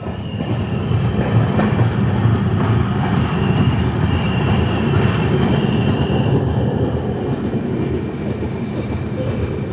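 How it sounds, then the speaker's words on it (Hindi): The Visakhapatnam–Mumbai LTT SF Express rolls into Manmad Junction with a loud, continuous rumble of wheels and carriages, faint squeals and clatter running through the whole stretch. "आठ मिनट की देरी से 8:18 पर हमारी ट्रेन पहुंची है मनमाड़ जंक्शन"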